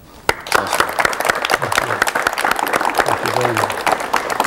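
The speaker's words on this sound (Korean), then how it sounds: "박수로 맞이해 주십시오." Studio audience applause greets guests on a 1985 Korean television talk show, a dense, steady wash of clapping that bursts in sharply and holds loud throughout, with a host's voice speaking over it.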